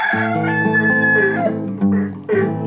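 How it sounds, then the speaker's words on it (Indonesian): A rooster crows loudly and close by in a long, drawn-out call, followed by a couple of shorter crowing bursts. "itu ada suara ayam jagonya nih"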